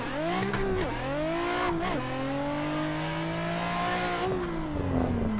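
Nissan 400Z drifting in a racing game, engine revving hard in fifth gear with pitch sweeps between shifts and tires squealing steadily through the slide, loud and continuous.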